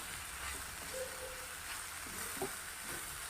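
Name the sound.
sautéing hadga flower vegetable in pan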